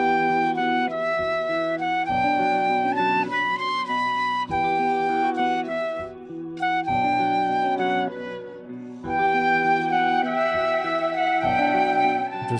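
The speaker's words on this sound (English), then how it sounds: "Now for the flute, I'm actually going to use this one from Arcade right here" A melodic flute sample from the Arcade plugin in FL Studio plays a bright, looping phrase of sustained notes, loud and upfront with no voices.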